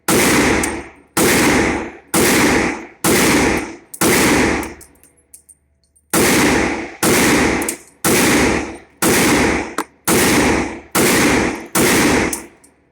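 A Smith & Wesson M&P pistol in .357 SIG fires 125-grain Winchester rounds at a range: loud, sharp shots at an even pace with ringing tails, one brief pause midway, and no talking.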